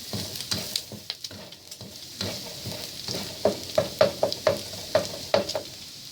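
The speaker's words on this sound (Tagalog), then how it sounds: "Hayaan muna natin maluto yung ating bawang." Garlic frying in a pan alongside pork for pancit habhab, a close sizzle broken by a series of sharp stirring scrapes and taps that come more quickly toward the end, with no voices.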